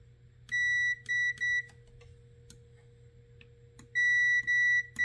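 A multimeter gives sharp electronic continuity beeps in short clustered bursts, three at first and then more after a pause, with faint clicks between them while a battery is tested.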